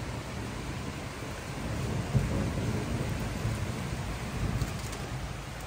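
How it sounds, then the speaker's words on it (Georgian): Steady rain shower with a low rumble of thunder, a continuous broadband wash that swells slightly midway, heard alone with no talk over it. "წვიმა წამოვიდა და გადაიღო"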